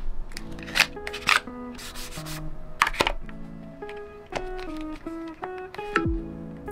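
Close rubbing and tapping as a stone gray silicone case for an iPhone 16 Pro is handled, with soft scuffs, brief clicks and a faint tonal background underneath.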